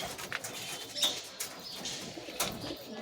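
Pigeons kept at a home loft coo softly in low, rounded calls, with a few faint wing flutters scattered through a quiet, close setting.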